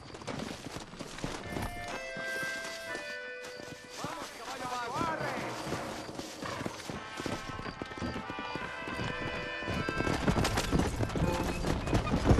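Horses trot with a steady clip-clop of hooves in the Red Dead Redemption video game, set under music and voices talking throughout.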